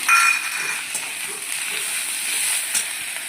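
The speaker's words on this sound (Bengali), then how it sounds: "রসুন বাটাটা একটু ভাজা ভাজা হয়ে আসলে পেঁয়াজের সঙ্গে টমেটোটা দিয়ে দেবো।" Chopped tomatoes frying in a pan with onion and garlic paste, giving a steady hiss and sizzle with faint clinks, near and alone.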